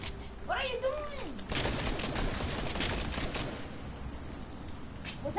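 Rapid gunfire from a shooter video game rattles out in a dense burst lasting about two seconds, loud and close, with players talking over the game sound before and after.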